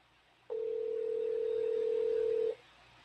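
A single steady telephone ringback tone lasts about two seconds over low background hiss, then cuts off with no answer.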